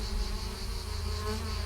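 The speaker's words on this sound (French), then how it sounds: "Les abeilles vrombissent à la note si bémol." Steady, dense buzzing of bees over lavande fields in Valensole, Provence, fills the air continuously, close and fairly loud, with no voices.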